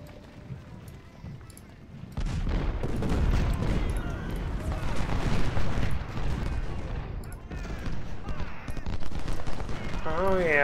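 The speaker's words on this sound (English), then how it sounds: "Cannons." Cannon and rifle fire from a Ultimate General: Civil War battle, a rumbling barrage of distant shots and booms that swells after a quieter start, with a voice speaking over it.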